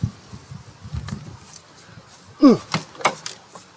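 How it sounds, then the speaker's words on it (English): Door of a neglected 2017 Ford E-450 motorcoach swinging open, giving a short scraping creak mid-clip followed by a few knocks and clunks against quiet background noise. "Even the door's opening funny because it's so neglected."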